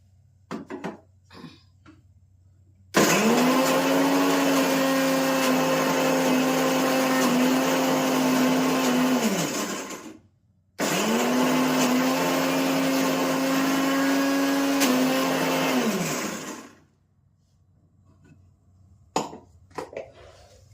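An electric mixer grinder loudly blends green chutney with coriander in two long whirring runs with a short pause between them; each run winds down at the end, and faint kitchen clatter surrounds them.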